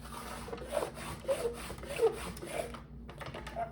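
Paper scored along a 2.5-inch mark on a scoring board, heard as faint, close, short scraping strokes repeated several times in a quiet room, with no speech.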